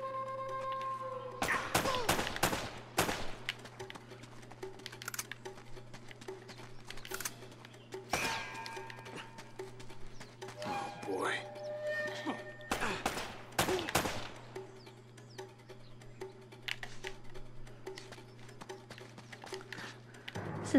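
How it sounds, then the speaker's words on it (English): Intense gunfire in Uncharted: Drake's Fortune, with sharp shots in clustered bursts and scattered single cracks over a low steady hum, some clattering impacts between volleys. "Is like intense shooting."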